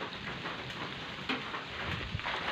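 Steady rain falls on a farm during a hot spell, a dense even hiss of drops hitting surfaces with a few louder spatters, close and continuous with no voices.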